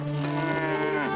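A cow lows in the medieval farming game Medieval Dynasty, one long, loud, drawn-out moo with a wavering pitch that fills the whole moment on its own, close by and clear.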